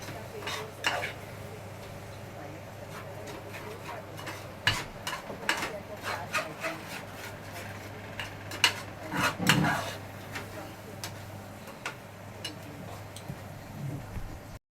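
A utensil stirs five eggs for egg bhurji in a pan, giving irregular clinks and scrapes against metal over a faint sizzle, with scattered louder knocks.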